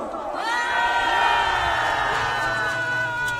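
A large crowd at an outdoor political rally shouts and cheers together, a loud sustained roar of voices that swells early and holds steady throughout.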